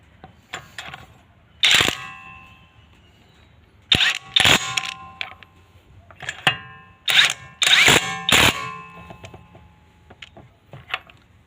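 An iMan IW 800 electric impact wrench spins pickup truck wheel nuts in a run of short, sharp whirring bursts, some doubled, separated by quiet pauses. It sounds close and loud, with no talking.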